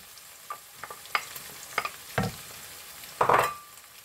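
Onions and green chilies fry in a pan for a French beans and potato sabji, with soft sizzling broken by several sharp scraping stirs of a spoon, fairly quiet and close.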